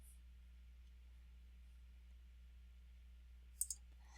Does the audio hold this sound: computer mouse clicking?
yes